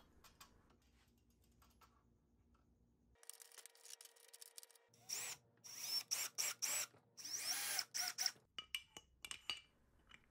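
Screws driven by a power drill to mount a flagpole holder on a metal pipe for a folding art horse, heard as short, close whirring bursts with clicks after a quiet stretch of faint background hum.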